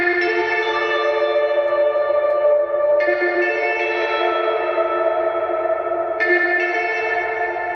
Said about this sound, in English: So it starts out with this guitar melody.